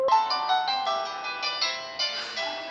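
A phone ringtone playing for an outgoing call, a bright repeating electronic melody in steady pulses, clear and alone.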